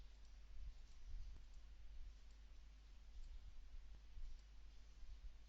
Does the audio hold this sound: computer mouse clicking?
yes